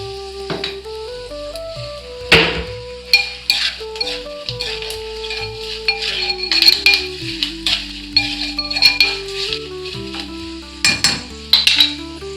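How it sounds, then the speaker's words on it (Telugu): Hot tempering is poured into a buttermilk chicken curry and sizzles loudly up close, with metal utensils clinking against the pot in bursts over a steady hum and no talk. "అందులో మజ్జిగ వేసుకొని ఇప్పుడు పోపు ఇందులో వేసుకోవాలండి"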